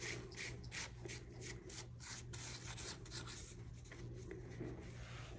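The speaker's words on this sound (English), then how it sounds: "You sort of like get the spoon in there, rub it back and forth, and it makes the bottom" A spoon is rubbed back and forth over a game-controller-shaped bubble bath bomb to burnish it, making a quiet, steady gritty scraping in close rhythmic strokes, with no voices.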